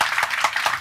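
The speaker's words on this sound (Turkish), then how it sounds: "Lütfedip zahmet edip gelen konuklarımız için bir alkış rica edeceğim sizden." Brief burst of audience clapping for the guests at a Turkish literary panel on crime fiction, a few distinct close claps in quick rhythm, with no talk.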